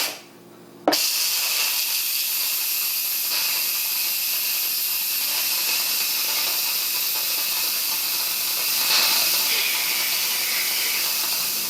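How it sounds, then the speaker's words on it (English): Steam pressure release from an Instant Pot pressure cooker making mac and cheese: a sudden loud, steady hiss bursts out and continues without a break, swelling slightly near the end. "Now we're going to release pressure."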